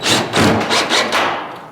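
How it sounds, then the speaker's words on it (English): A nut driver drives a black roofing screw in five short, rough, whirring bursts in quick succession. The bursts are close and fairly loud, then trail off, with no talk. "get that screw started in that hole. Again with your nut driver."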